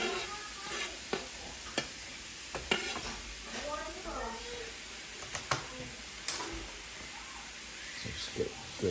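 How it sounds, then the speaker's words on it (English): Mushroom stems cook in a pan with a soft, steady sizzle, broken by scattered clicks and scrapes of stirring, for stuffed mushrooms. "we're gonna cook this until the moisture is gone from the mushrooms"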